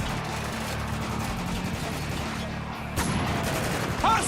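Gunfire in a first-person shooter video game rattles against a dense, steady wash of in-game noise, with a heavier burst near the end, while voice chatter sits underneath.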